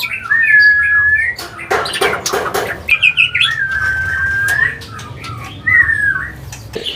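A spotted shama (murai trotol) at a specialist bird kiosk sings a series of clear, looping whistled phrases, close by, against background chatter and clatter.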